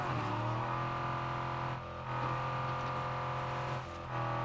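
A fast car in the video game State of Decay 2 holds a steady, buzzing engine drone at a fairly constant pitch, with two short dips in level, close and unaccompanied by talk.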